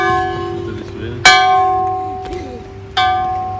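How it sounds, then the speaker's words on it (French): Bells ring with a clear metallic tone during an outdoor summer picnic, with sharp strikes and long ringing tails. Faint chatter and background noise run beneath them. "t'entends-tu les cloches?"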